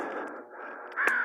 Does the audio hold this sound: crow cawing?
yes